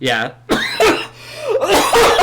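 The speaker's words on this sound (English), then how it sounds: "That was a cough." A single short cough near the start, then a person speaking briefly afterward.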